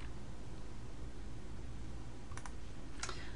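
A mouse clicks the submit button in an online grade center, two light, brief clicks near the end over a steady background hiss.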